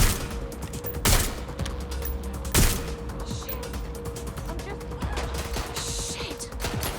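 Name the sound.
gunfire in the video game Watch Dogs Legion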